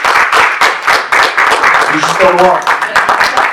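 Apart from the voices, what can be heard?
audience applause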